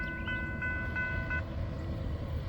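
A Norfolk Southern freight train rumbles steadily through a road crossing in Ohio. A multi-tone horn sounds in short repeated blasts over the continuous low roar of the rail cars, and the rumble carries on after the horn stops.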